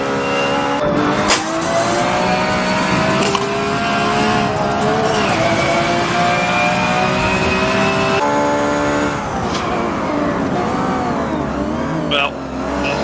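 A high-powered race car engine in Forza 7 screams loudly and continuously, shifting pitch through gear changes and braking with tire squeal, while someone talks over it.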